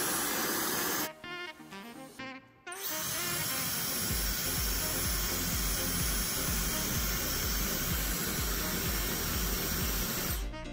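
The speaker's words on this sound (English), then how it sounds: "So I just tried out the different speeds on the blow dryer as well as the heat settings." A Dyson Supersonic hair dryer blows with a steady broadband rush, switched between speed and heat settings; the airflow briefly cuts and restarts twice early on, then runs continuously and fairly loud, with no one talking.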